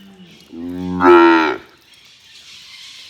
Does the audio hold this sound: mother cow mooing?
yes